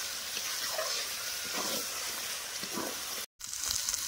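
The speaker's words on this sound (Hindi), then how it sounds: "तो अब इसमें पानी डाल रहे हैं" Water pours into a pan of cooking masala for a fish curry, a close, continuous broadband rush and hiss that cuts out briefly near the end and then resumes.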